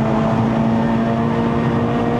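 The engine of a 2008 Honda Civic Type R FD2R holds high revs on a mountain road climbing to Genting in Malaysia, a loud, steady, continuous drone with a strong tonal whine.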